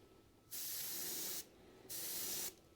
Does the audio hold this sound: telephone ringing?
no